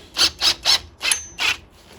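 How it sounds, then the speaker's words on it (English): A cheap cordless drill fitted with a DeWalt bit bites into a stud on a Mazda RX-7 FC turbo rotary engine in five short, harsh grinding bursts, evenly spaced and close, with no talking. "I guess it's time to test my DeWalt drill bits, see if they're tougher than that piece of nonsense."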